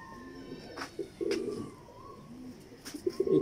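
Racing pigeons in Lahore coo softly in short, throaty bursts. Several soft calls come close together, fairly near but quiet.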